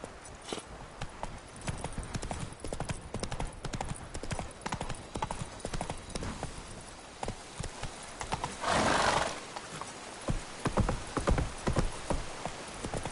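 Roach, Geralt's horse in The Witcher 3, galloping with dense rapid hoofbeats throughout, a burst of rain-like hiss midway and a brief whinny, fairly loud and close.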